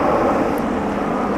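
An Air Canada Boeing 767 jet airliner seen while plane spotting in Montreal: a loud, steady, broadband engine roar, near and continuous throughout, with no talking.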